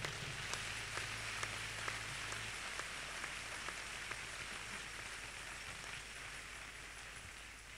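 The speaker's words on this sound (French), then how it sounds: "je demande à l'assise d'applaudir très fort" Church congregation applauding very loudly for its outgoing president, a dense, sustained roar of many hands clapping at once, even and unbroken from start to finish with no voices over it.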